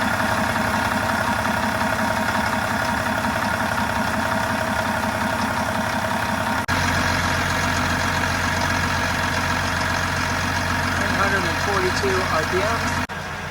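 A boat or vehicle engine idles steadily at about 700 RPM during an alternator and battery charging test, a constant low drone running throughout with a brief shift in tone partway.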